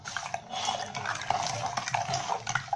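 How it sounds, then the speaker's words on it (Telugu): A spoon stirs powder into a milk mixture in a pot, a steady swishing, scraping sound that goes on without a break and carries faint clinks of utensil against metal. "ఇవన్నీ మిక్స్ అయ్యేలా కలుపుకోవాలి."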